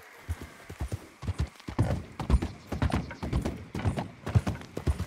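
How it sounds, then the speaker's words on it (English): Horse hooves gallop in Red Dead Redemption 2, a steady, fairly close clip-clop rhythm of repeated hoofbeats running throughout with no talk over them. "Get on the horse, Arthur."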